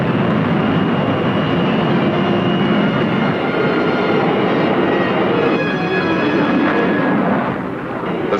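USAF interceptor fighter jet in flight going supersonic during a 1965 William Tell weapons meet, a loud continuous roaring drone that holds steady throughout.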